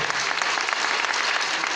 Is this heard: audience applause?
yes